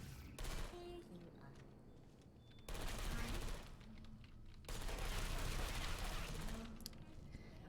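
Rapid automated turret fire in Portal 2, sustained rattling bursts that start and stop in blocks, fairly loud and close, with faint game voices underneath.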